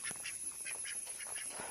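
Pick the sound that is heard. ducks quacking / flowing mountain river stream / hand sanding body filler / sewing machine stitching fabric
ducks quacking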